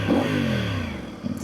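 A Voge DS800X Rally motorcycle engine revs up and then drops back close by, a loud rising and falling snarl with a brief blip at the end, no talk.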